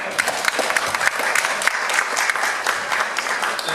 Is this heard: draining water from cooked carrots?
no